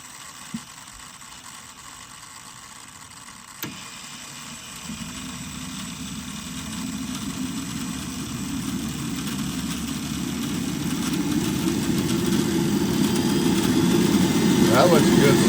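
A Starwood Lama helicopter turbine engine spooling to ground idle, a low rumble and rising whine that swells steadily louder over the stretch, with a few mechanical clicks early on.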